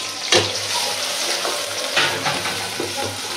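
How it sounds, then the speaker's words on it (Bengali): Onions frying in hot oil in a wok, a steady loud sizzle with a few sharper bursts of crackle as the pieces hit the oil, no talking. "তো তেল গরম হয়ে গেছে, এই যে পেঁয়াজ দিয়ে দিলাম।"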